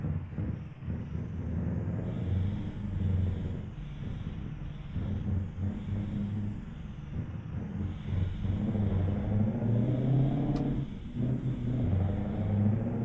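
A Mercedes Axor truck engine and exhaust in Euro Truck Simulator 2 rumble steadily through a roadworks section, a continuous low drone with slight rises and falls in revs and no speech.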